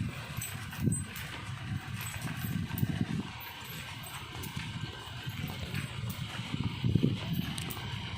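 A horse walks along, its hooves clip-clopping in a loose, uneven rhythm at moderate distance, with low rumbling background noise and no clear talking.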